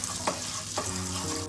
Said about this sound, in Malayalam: പഞ്ചാര, ബ്രൗൺ ഷുഗർ ഒന്ന് മെൽറ്റാക്കി എടുക്കണം